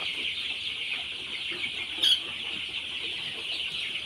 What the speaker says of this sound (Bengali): বড় মুরগিগুলো দেখতেও ভালো লাগে, আসলে এত বড় হয়েছে